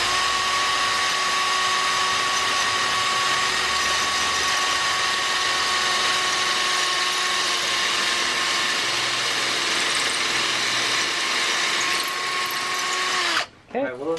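A power drill bores a quarter-inch hole through a front supermoto axle slider, a loud steady whine held for about thirteen seconds before it winds down abruptly at the end.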